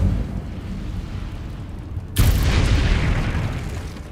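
An Incendio fire spell bursts in Hogwarts Legacy, a sudden loud whooshing blast cutting in over quieter ambience and roaring on as a dense sustained rush.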